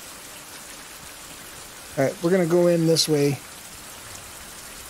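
Steady soft hiss of rain in the video game Survival: Fountain of Youth runs throughout at low level, while someone talks briefly in the middle over it.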